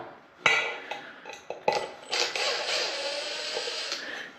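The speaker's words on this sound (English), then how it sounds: "So first I'm gonna have to take off these 3 screws right here, which hold it in." Screws being backed out of a ceiling fan mount, heard as a run of sharp metallic clicks and clatters followed by a steady whirring rattle, close and alone with no talking.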